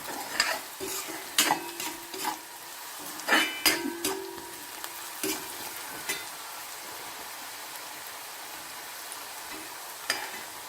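Chopped onions sautéing in a pan while making a variety rice from ration rice, with a steady sizzle broken by sharp scrapes and stirs of a spoon, close and clear with no talking.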